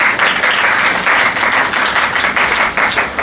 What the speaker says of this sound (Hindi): ताली बजा सकते हैं खुदा के लिए।